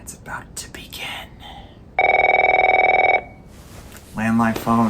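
A landline telephone rings in The Last of Us Part 1 video game, a single steady electronic ring burst of about a second lasting alone in a quiet room, with soft ambient sounds before it and a voice answering afterward.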